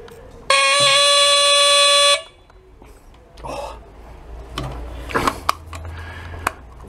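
An Onward bicycle horn on a Bonanzarad bike gives one long, loud electric buzzing blare lasting about a second and a half, followed by quieter handling clicks and rustling nearby.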